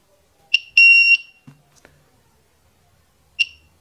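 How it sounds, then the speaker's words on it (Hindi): A homemade DIY spot welding machine gives short electronic beeps: a single beep, a sustained tone, another beep, then a lone beep after a pause, loud and close with faint handling clicks between. "ये आप लोगों को यहाँ पे ब्लिंक जो है बार बार बीप देगा"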